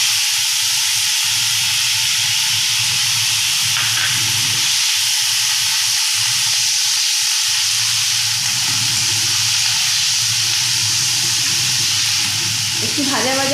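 Chopped onions sizzle in hot oil with a pinch of nigella seeds, a steady close frying hiss with broad crackle filling the whole stretch and a brief stir near the end.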